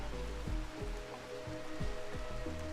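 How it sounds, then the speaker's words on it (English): Rain falls steadily outdoors in the video game Rimworld, a soft continuous patter under repeated low thumping game sounds and a faint background hum. "Oh, it is raining outside as well, so it is cooling it down."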